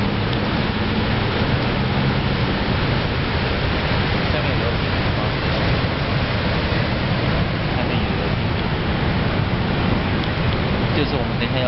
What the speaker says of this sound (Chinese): 这个比较壮观的是加拿大的瀑布。